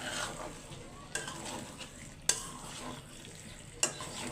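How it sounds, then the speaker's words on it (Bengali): Food sautéing in a pan, a soft ongoing sizzle with a few sharp spoon scrapes and clinks against the pan, fairly quiet and with no talk. "এই যে আরো অনেকক্ষণ কষানো লাগবে।"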